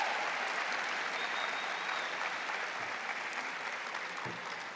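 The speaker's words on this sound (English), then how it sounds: "give the world-class teaching faculty and our staff a round of applause for helping to get you where you are today" A graduation convocation audience applauds faculty and staff with steady, dense clapping that fills the hall evenly and fades only slightly toward the end, with no voices over it.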